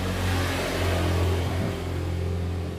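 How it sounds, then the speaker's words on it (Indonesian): Honda Beat scooter's jammed electric starter motor, its armature shaft no longer fitting its seat, grinding with a steady, fairly loud mechanical drone and low rumble, heard close and alone. "ini suara cekuk-cekuk itu akibat macet"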